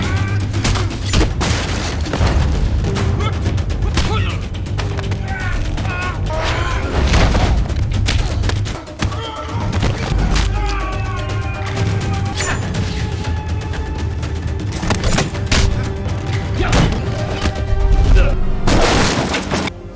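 Gunfire and crashing in a movie bar fight scene, with repeated sharp bursts, booms and breaking sounds layered over music and shouting voices throughout.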